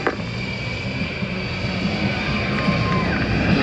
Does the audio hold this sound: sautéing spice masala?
no